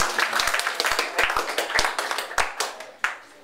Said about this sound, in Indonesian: beri tepuk tangan untuk kandidat.